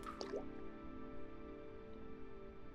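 Water being moved in The Wandering Village video game, a short watery drip and squishy splash right at the start, followed by a steady tonal game ambience with no talking.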